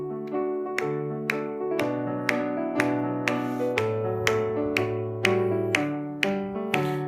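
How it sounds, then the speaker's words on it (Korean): A church congregation claps in steady rhythm while singing hymn 197 at a daily dawn prayer service, sharp regular hand claps under sustained sung voices and instrumental accompaniment. "찬송가 197장 박수하며 찬송합니다"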